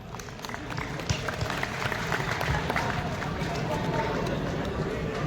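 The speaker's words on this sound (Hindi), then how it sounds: "सब तालियों से अभिनंदन।" Audience applause at a Hindu conference in Nilokheri, Karnal, a dense, steady wash of clapping from a large crowd that holds at an even level throughout, with some crowd noise mixed in.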